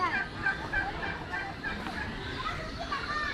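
Turkeys gobbling at Chittagong Zoo, repeated warbling gobbles from several birds at close to moderate distance, with people talking faintly in the background.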